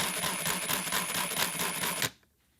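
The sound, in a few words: jigsaw making a cut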